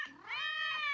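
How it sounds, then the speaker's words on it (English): A cartoon cat lets out a single drawn-out, rising meow, close and fairly loud, over a quiet background, in an animated Simpsons scene. "What are those cats doing behind you?"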